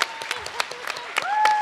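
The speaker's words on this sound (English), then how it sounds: "Let's give Ms. Palmer a big round of applause." Applause from an audience at an I Love My Neighborhood poster contest award ceremony honoring a teacher called to the stage, scattered claps building into steady clapping, with a voice briefly heard over it.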